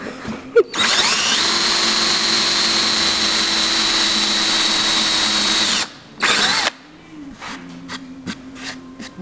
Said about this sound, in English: I have a 3/8 inch paddle bit on here